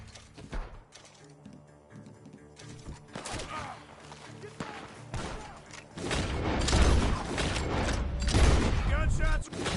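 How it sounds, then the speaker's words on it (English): Gunshots ring out from a barn in the Red Dead Redemption 2 video game, a rapid volley of loud cracks and booms that grows denser, with voices talking over the shooting. "Gunshots coming from that barn."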